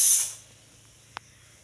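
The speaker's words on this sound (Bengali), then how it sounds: "ওই ফিস করে যে আওয়াজ হচ্ছে নাই কুকারে রান্না হচ্ছে সিটি বাজছে তাই" A pressure cooker cooking meat with pumpkin lets out a short, loud, sharp burst of steam hiss that fades within half a second, then near-quiet with a single small click.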